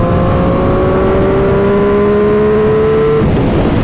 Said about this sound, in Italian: Vi piace il sistema di scarico?